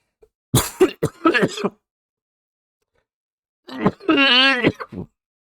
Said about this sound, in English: That's just my cough normally.